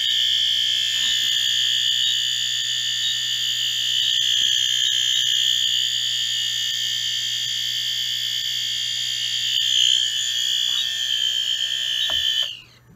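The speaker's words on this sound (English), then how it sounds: "both alarms sounded their continuous horn and the strobes were out of sync" Wheelock Exceeder fire alarm horns sound continuously and loudly, a steady piercing tone holding unbroken for about twelve seconds before cutting off abruptly.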